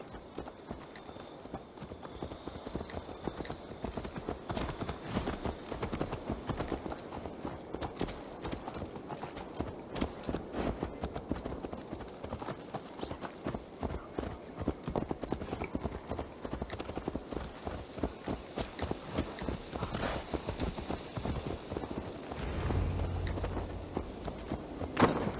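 A horse in the video game Assassin's Creed Valhalla walks with steady, even clip-clopping hooves that continue throughout at close range, and a brief low thud comes near the end.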